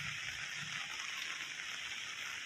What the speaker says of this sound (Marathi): एवढा तुफान पाऊस आहे फर्स्ट टाइम एवढा पडला पाऊस ना